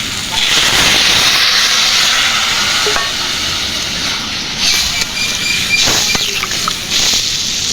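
Spiced water is poured into a hot pan of sautéed potatoes, setting off a loud, sustained steamy hiss and sizzle with stirring scrapes and bursts as it settles.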